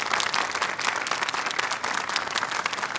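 An audience applauding to welcome speaker Thomas Hartman to the podium, with sustained, dense clapping from many hands at a steady, fairly loud level and no voices over it.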